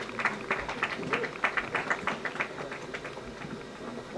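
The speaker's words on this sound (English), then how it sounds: "Sounds like some cheering going on over there." Distant crowd cheering and clapping at a backyard ultramarathon world championship, a steady patter of applause and scattered shouts rising and falling in bursts, heard from afar across open ground.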